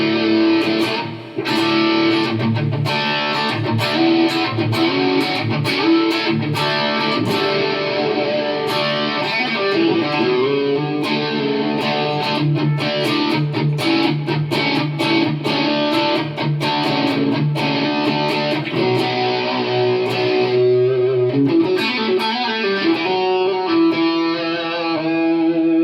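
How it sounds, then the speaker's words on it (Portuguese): Electric guitar played through an SL Drive overdrive pedal, a warm, mildly driven tone with steady strummed chords and picked notes filling the whole stretch without pause. "é o SL Drive, que é o terceiro pedal que eu tenho aqui"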